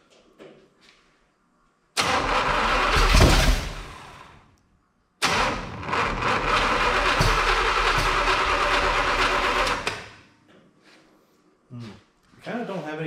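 A Ford Model T hot rod engine cranks on its first start in two long, loud bursts of churning starter noise separated by a short pause, with voices talking around it.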